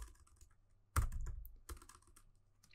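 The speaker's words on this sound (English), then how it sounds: "Before I could even finish typing it" Typing on a computer keyboard during a MinIO server command-line lab, with quiet taps and then a sharp burst of quick keystrokes, close to the microphone.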